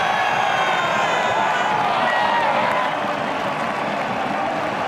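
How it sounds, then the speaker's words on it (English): A record stadium crowd at an Adelaide United football match erupts after a goal, a dense, loud, continuous roar of cheering, whooping and applause filling the whole stretch. "Record crowd and delirium at Homo Stadium."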